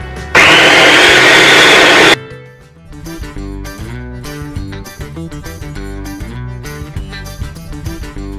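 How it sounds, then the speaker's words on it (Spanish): A blender whirs loudly for about two seconds as it purées vegan pistachio ice cream ingredients, then cuts out abruptly, leaving background music playing on. "Así que vamos a batirlo bien."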